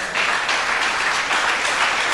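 A church congregation applauds during a sermon on biblical baptism, many hands clapping together in a loud, continuous burst that holds steady throughout.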